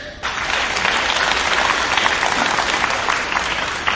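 Audience in a lecture hall applauding, a dense, steady wash of clapping that starts abruptly and holds loud and even to the end.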